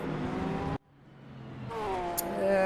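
Porsche race car engines in a sim racing game at Road America, a steady droning engine tone that cuts out abruptly, then a rising, revving whine building back up.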